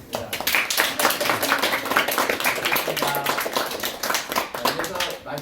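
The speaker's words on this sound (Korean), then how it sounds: "모두 박수" Audience clapping at an academic seminar and reception in Korea, honouring two presenters; steady, fairly dense handclaps fill the whole stretch, with some voices mixed in.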